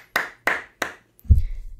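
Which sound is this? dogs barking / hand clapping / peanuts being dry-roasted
hand clapping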